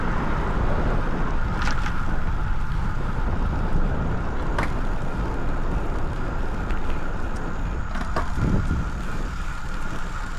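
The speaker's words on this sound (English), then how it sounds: "you really are catching the wind. It feels like there is some wind today." Steady wind rushes outdoors on an open-country bike ride, buffeting the microphone as a constant loud roar with a few faint brief knocks.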